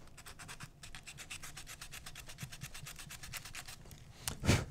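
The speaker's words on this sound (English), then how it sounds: "sanding with the grain where we can" Rapid back-and-forth rasping of sandpaper along the grain of a carved wooden coaster, steady rhythmic strokes close by, ending with a louder scuffing bump.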